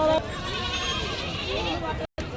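Large goats bleat at a livestock market at Pebbair, wavering cries repeating against a busy background of murmuring voices, with a brief dropout near the end.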